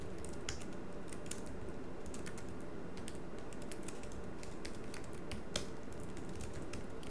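Someone types a C program on a Mac keyboard, producing a quiet, steady run of soft key clicks with uneven rhythm and occasional sharper taps.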